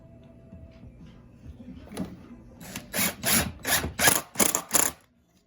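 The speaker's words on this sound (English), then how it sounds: "I'll put my bit back in, and I'll get a screw and put in that" Cordless drill driving a screw into wood: faint handling sounds, then a series of short loud whirring bursts in quick succession as the screw is driven home, close up with no talk.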